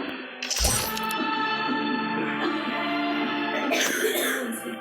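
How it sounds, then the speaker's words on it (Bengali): A person gives a sharp, loud cough that breaks into a rough throaty rattle, followed by a second burst a few seconds later, all close to the microphone. "তোমার কাশি তো ক্রমশ বেড়েই চলেছে"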